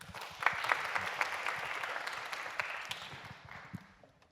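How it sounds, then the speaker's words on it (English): An audience at a technical talk applauds a speaker being introduced, a steady round of clapping that swells early and then tapers off, moderately distant in the room. "please join me in giving a warm round of applause for Jerry Wei."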